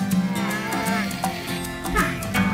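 A water buffalo being led back to its pen after a bath lets out a steady, close lowing moo that fills the whole stretch, with no one speaking.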